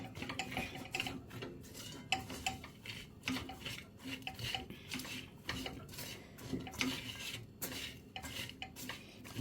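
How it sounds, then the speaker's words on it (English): A spoon stirs coconut drops mixture with cinnamon stick, cinnamon powder and nutmeg in a pot, scraping and clinking against the metal in a steady rhythm, close and fairly quiet, with no talking. "We're going to stir that"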